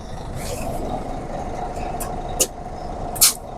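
A truck engine, started with a Startall jump box connected to a jump stud, rumbles steadily up close, with two short sharp hissing bursts near the end.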